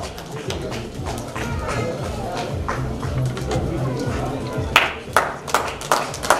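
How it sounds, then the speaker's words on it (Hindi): An audience at a journalists' honour ceremony and cultural evening in Udaipur applauds, with dense clapping that breaks into a few sharper, louder bursts near the end while a voice speaks over it. "एक बार जोरदार तालियां"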